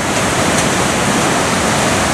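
The flooded Congburn River rushes over a damaged waterfall near Chester-le-Street, a loud, constant roar of churning water filling the whole moment.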